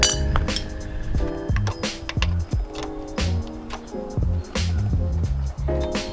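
Metal wrenches clink and tap repeatedly against nuts on a Mazda Miata, a close series of bright ringing clinks in an irregular rhythm, with little else heard.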